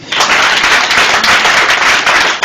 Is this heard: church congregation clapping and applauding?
yes